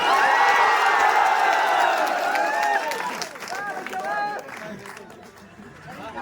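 Large crowd at a political rally for Gagan Yadav, dense loud chatter and shouting filling the space, with cheering swells and occasional whoops, easing somewhat toward the end.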